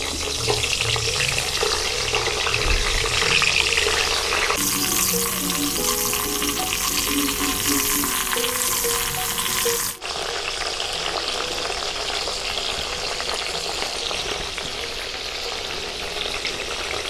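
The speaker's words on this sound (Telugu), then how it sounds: "ఇప్పుడు ఈ వంకాయలు మొత్తం దీంట్లో వేసి కొన్ని కొన్నిగా డీప్ ఫ్రై చేసుకున్నాం" Brinjal pieces deep frying in hot oil for vankaaya kaaram, a loud continuous bubbling sizzle that shifts in texture partway through as the pieces are stirred.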